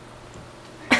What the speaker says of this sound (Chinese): 啊，为什么要笑我咳嗽？